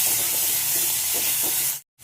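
A pressure cooker holding peas and pasta lets off a loud, steady hiss of steam close by, which cuts off abruptly near the end.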